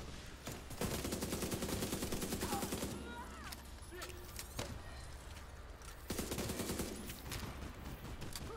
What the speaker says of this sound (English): Was that gunfire?